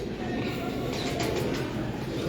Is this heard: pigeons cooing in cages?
yes